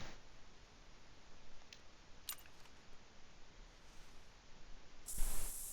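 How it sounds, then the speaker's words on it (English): A burst of aerosol scent blocker sprayed in the game theHunter: Call of the Wild, a short loud hiss near the end over a steady low background noise. "We're going to spray some spray."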